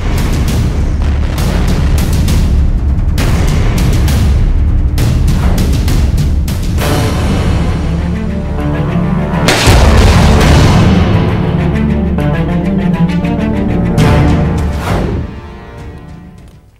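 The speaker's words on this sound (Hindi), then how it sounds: "रूस ने खार्किव में मुख्तलिफ मकामात पर रॉकेट हमले किए हैं" Rocket attack explosions in Kharkiv: loud, heavy booms and blasts crowd together over a continuous low rumble, with a big surge about two-thirds through before the noise fades away at the end.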